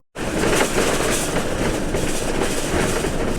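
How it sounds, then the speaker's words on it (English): A camper van rattles hard over a washboard dirt road, a dense loud clatter and rumble that runs without a break and starts suddenly. "I know it's rattling back there and I can fix it."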